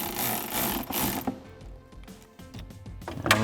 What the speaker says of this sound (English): So now I'm going to take my 8mm on my electric ratchet,